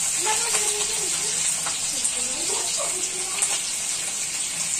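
Green chilies sauté in hot oil in a pan on lowered gas heat for chicken chilli, giving a steady bright sizzle throughout while someone talks over it.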